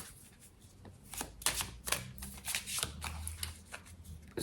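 Tarot cards being shuffled and drawn, a close run of crisp riffling and snapping card strikes with a few sharper slaps, continuous and fairly near.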